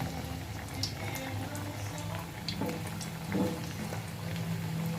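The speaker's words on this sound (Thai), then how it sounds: "นี่น้ำมันเริ่มร้อนแล้วนะคะ ทดลอง นี่เราเอาเผือกไปทอดนะคะ" Sliced taro sizzles and bubbles steadily in hot oil, a soft continuous crackle with occasional sharper pops, no voices.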